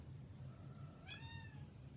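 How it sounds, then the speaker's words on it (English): A pet cat gives a single clear, rising-then-falling meow, faint and somewhat distant against a low background hum, with no speech. "Sorry, that's my cat."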